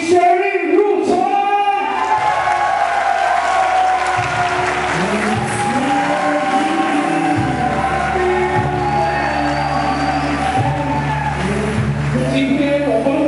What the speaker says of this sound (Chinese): 让我们给予最热烈、最热的掌声